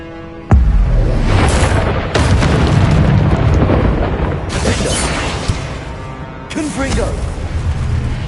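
Fiery Confringo spell blasts in Hogwarts Legacy: a sharp, loud burst hits, followed by a second blast about a second and a half later and another a few seconds after, each rumbling on amid constant game noise.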